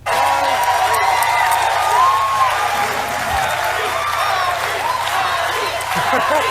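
A live show's crowd applauds and cheers: dense, steady clapping with scattered whoops, loud and continuous throughout.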